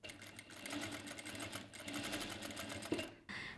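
A JACK 9100BA industrial sewing machine stitches fabric along a drawn line, a steady close whirring run with rapid needle pulses, a brief clunk near the end, then a short pause before the motor resumes.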